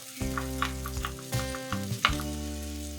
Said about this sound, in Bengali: তেল ছাড়তে শুরু করেছে মশলা দিয়ে